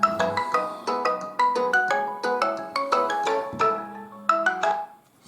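A mobile phone ringtone plays a bright, plucked melodic tune of rapid repeated notes in regular phrases, loud and clear with no talking over it.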